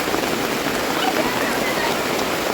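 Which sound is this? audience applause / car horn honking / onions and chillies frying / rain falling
rain falling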